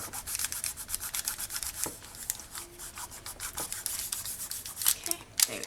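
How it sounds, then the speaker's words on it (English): Polymer clay is burnished onto a ceramic tile with quick repeated rubbing strokes, a close, dry scraping rhythm with a few sharper clicks near the end and no talk. "just very quickly burnish it onto that tile so that it sticks"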